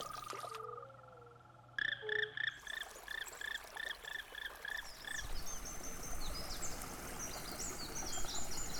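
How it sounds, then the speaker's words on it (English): Apennine fire-bellied toads call in the wild in Italy, a run of soft, regular hoots that repeat steadily for several seconds over faint outdoor ambience with insects. "the native Apennine fire-bellied toad"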